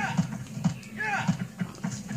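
Horse hooves clip-clopping in the Shadow of the Colossus video game, a series of regular thuds at a trotting pace under someone talking.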